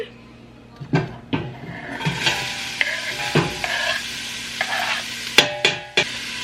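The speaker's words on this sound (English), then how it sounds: "And I'm going to stir this around and cook this down for about 5 minutes." Chopped onion and garlic are stirred and sautéed in hot olive oil, with a soft sizzle under repeated sharp knocks and scrapes of the spoon against the pot, close and fairly loud.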